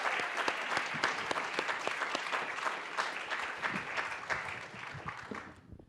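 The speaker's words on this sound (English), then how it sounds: "round of applause." Audience clapping for panel speakers at an event honoring Indigenous voices, a steady moderately quiet round of applause from a modest crowd that tapers off and stops at the end.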